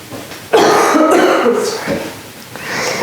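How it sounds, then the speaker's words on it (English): A cough and throat clearing, close and fairly loud, in a few rough bursts followed by quieter breathy rasps, during a Kundalini yoga breathing practice. "If you find yourself coughing or clearing your throat, know that that's totally normal."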